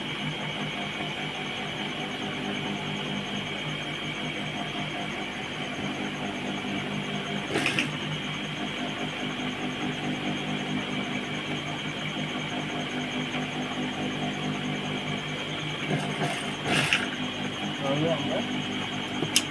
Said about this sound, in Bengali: এই যে বেল্ট আছে বেল্টের সমান এইভাবে আমরা সেলাই করে দেবো